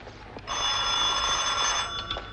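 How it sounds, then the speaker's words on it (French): A telephone rings in a hotel setting in a 1980 war film, a steady electronic bell tone that starts after a short pause and continues loudly to the end, with no talk. "Oui, le téléphone, c'est pour monsieur Ram Das Gupta."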